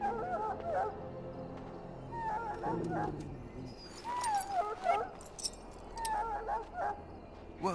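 Dog whimpering in a fantasy video game, a series of high, wavering whines and soft yips spread across the span over a low ambient bed, moderately faint.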